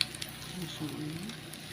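Egyptian eggah omelette batter with eggs and falafel frying in hot oil in a pan, a soft steady sizzle, close but quiet, with a faint voice underneath.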